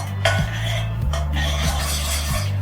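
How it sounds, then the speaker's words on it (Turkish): Butter and flour for béchamel sauce are stirred and toasted in a pan, a steady sizzle running throughout while a utensil scrapes the pan in a few separate strokes, close and clear. "Tereyağı ve unumu güzelce kavuracağım."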